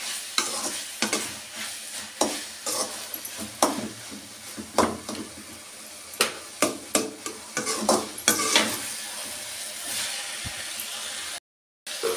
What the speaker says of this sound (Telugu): చూడండి మీరు, వేయిపోతుంది వంకాయగా మెత్తగా